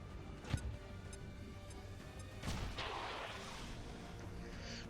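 A gas grenade goes off in the video game XCOM 2 Long War, a sharp burst followed by a second heavier boom and a rushing hiss of spreading gas, fairly loud with no talking.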